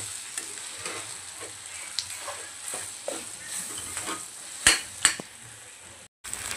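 Meat curry being sautéed in a pan, soft steady sizzling broken by repeated scraping strokes of a spoon and a couple of sharp metallic clinks against the vessel, fairly close, no talking.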